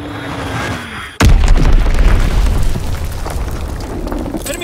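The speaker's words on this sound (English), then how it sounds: "Enemy bomb incoming!" An enemy bomb detonates in the shooter game Call of Duty: WWII with a sudden heavy boom, then a loud rumbling roar of debris and fire that slowly fades. A quieter ambient battlefield hum comes before the blast.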